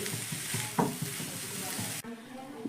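Potato, carrot and onion fry in a pan on a medium-low gas flame with an even sizzle and soft stirring scrapes. The sound drops abruptly quieter near the end.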